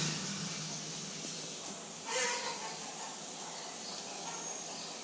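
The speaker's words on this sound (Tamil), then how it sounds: "2 ஸ்பூன் கடுகு சேர்த்து வெடிக்கட்டும்." Two spoons of mustard seeds sizzle and crackle in hot sesame oil for a lemon pickle tempering, a continuous loud hiss with a brief surge of spluttering midway, while a voice speaks over it.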